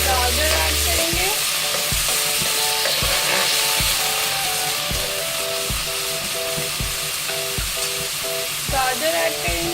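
Onion, capsicum and carrot stir-fry in hot oil in a kadai, a loud, continuous sizzle broken by regular scraping strokes of a spatula, close up.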